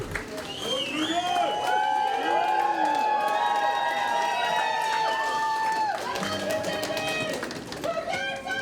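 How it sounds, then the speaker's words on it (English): An audience at an eighth grade graduation cheers and whoops as students file out, with loud overlapping shouts and high calls, a dense crowd roar that dips briefly near the end. "Can I please ask the audience to stand and cheer on our students as they exit?"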